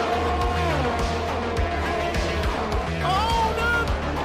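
Formula 1 race cars scream around the France round of a PlayStation racing game, engines whining loudly in overlapping high-pitched tones with shifting pitch, under excited race commentary.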